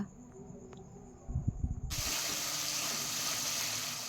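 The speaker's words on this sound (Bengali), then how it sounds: "মিক্সিং জারটা ধুয়ে সামান্য পরিমাণে একটু জল দিয়ে দিলাম" Water from a rinsed mixer jar pours into a pan holding tomato and nut paste, a sudden steady gushing hiss that starts abruptly after a few soft clinks and keeps going.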